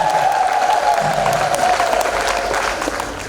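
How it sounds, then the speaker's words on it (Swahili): A church congregation applauds in praise of the Virgin Mary during a Catholic priest's sermon, steady dense clapping filling the hall with a sustained tone ringing faintly underneath throughout. "Makofi kwa mama."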